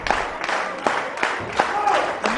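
Wrestling crowd at a two-out-of-three-falls match cheering and clapping in a steady roar, with sharper applause bursts recurring throughout.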